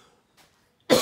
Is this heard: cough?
yes